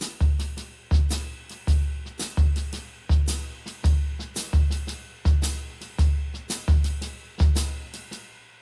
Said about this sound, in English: the bass drum playing the half note triplet is going to sound really cool